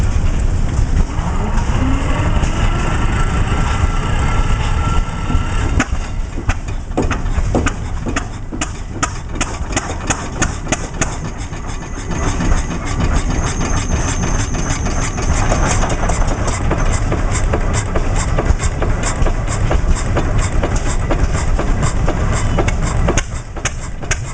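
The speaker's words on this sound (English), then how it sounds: "This 6-horsepower single-cylinder engine reflects early Cummins innovation." An old 6-horsepower single-cylinder Cummins engine running up close, loud and steady, with a regular chugging beat throughout.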